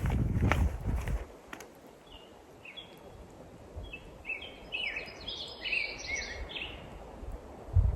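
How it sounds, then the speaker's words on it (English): Birds sing in a forest on a remote road, a series of short, high chirps and whistles that are moderately faint and mid-distance, after a few footstep-like thumps at the start, with no talk. "And I hear birds right now."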